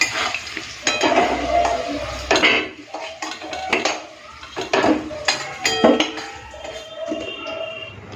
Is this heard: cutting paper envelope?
no